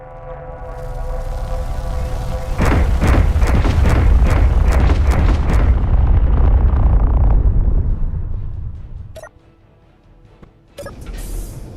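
Weapon fire in Space Engineers on a Warmaster Titan build: a loud rapid volley of booming blasts with a rumbling roar, fading into a low hum, then a final burst.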